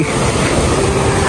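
Strong sea waves surge in a loud, unbroken wash of churning water, close and steady throughout the brief stretch.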